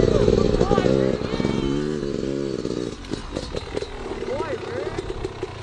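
A motorbike carrying a dog rides along, its engine droning loud and steady with changing pitch, strongest in the first seconds and then slightly quieter, with some clatter and background noise.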